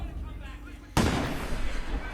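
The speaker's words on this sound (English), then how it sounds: "Gunshot." A single loud gunshot from the 2009 film X-Men Origins: Wolverine cracks out abruptly near the middle, then trails into a long, dense reverberant decay over a low soundtrack background.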